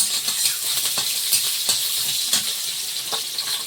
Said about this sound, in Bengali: একটুখানি তেলে 5 ফোড়ন, পেঁয়াজ কুচি,